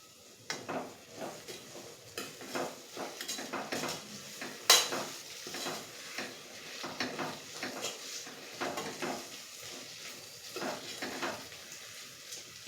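Spices and salt being mixed into Nilanga rice in a pan: a steady series of scraping stirs with soft clinks of a spoon against metal over a faint sizzle, plus one sharper clink midway, close and moderately loud, with no talking.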